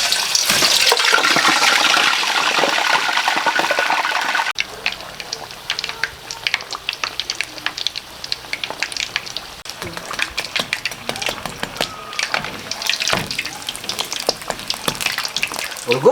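Frozen pork hock deep frying in a pot of hot oil, a loud continuous sizzle and crackle at first, then a lighter, busier spitting and popping that carries on steadily to the end.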